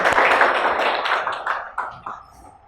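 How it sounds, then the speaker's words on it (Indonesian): A school class claps for a classmate standing at the front, a short burst of applause that starts full and thins out into scattered claps over a few seconds. "Selanjutnya Salsa. Tepuk tangan untuk temannya."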